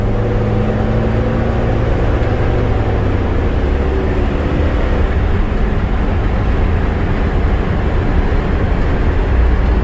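A Chevy W3500 cab-and-chassis flatbed work truck with a 6.0 Vortec V8 runs at half throttle, giving a loud, steady, unbroken engine roar and road drone throughout with no voices.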